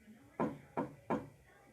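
Three sharp knocks on a glass mirror, evenly spaced and close, each a short rapping tap against a quiet room background.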